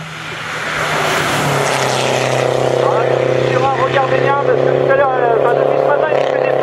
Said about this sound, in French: on attend le départ de Ludovic Surin, numéro 27. Voiture du groupe A